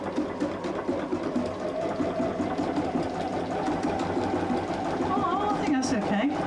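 A sewing machine test-stitches a tiny fabric scrap while making a glasses cover, a steady mid-pitched motor whir with rapid needle clatter running throughout under a voice speaking.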